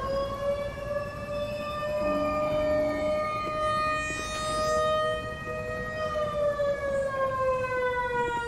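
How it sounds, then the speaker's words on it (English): A civil defense style siren wails steadily in the Black Mesa video game ambience, a long sustained rising and falling tone with strong harmonics filling the whole span, with no talking over it. "The siren I don't mind so much, at least that sort of ambience."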